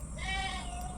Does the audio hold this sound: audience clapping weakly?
no